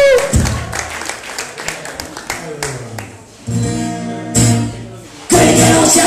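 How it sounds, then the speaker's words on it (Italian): An audience at a live music show claps in quick bursts, loud and close, before music swells in and takes over. "fate un applauso"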